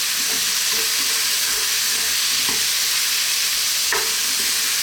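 Food is tossed and fried in a pan with a loud, constant hiss of sizzling, broken by a few soft scraping and clattering bursts as it is moved around.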